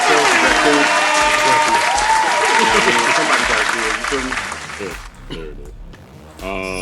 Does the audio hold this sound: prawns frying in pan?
no